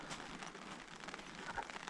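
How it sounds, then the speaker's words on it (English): Rain pattering steadily on a camping tarp at a solo backcountry kayak campsite, a soft continuous hiss of drops close overhead with no voices. "it sounds so nice listening to that rain on the tarp"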